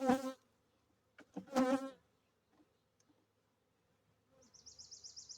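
Honeybees buzz from a 10-frame deep hive during an inspection, a faint, wavering hum rising near the end after a few brief knocks and clatters of equipment.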